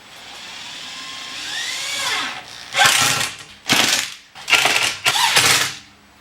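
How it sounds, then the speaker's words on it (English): An impact drill whirs steadily, then fires several loud bursts of rapid mechanical hammering separated by short pauses while driving screws into a workshop table frame. "Now, even though this is an impact drill,"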